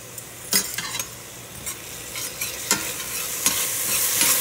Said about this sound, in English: And I'm gonna mix it a little bit here.